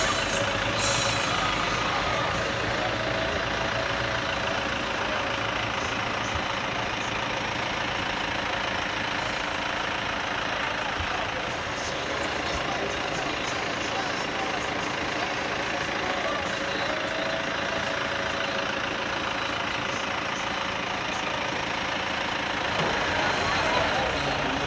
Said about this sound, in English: It's a heck of a truck.